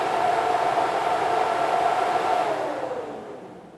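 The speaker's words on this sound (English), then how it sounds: "You see our fans are going in the right directions, pulling the air through the radiator, both fans." Twin electric radiator cooling fans on a classic car, wired up and jumpered, blow a steady, loud whooshing whir up close, then spin down and fade over the last second.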